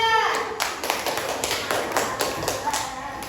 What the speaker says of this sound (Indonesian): Dan tepuk tangan untuk kelompok 3.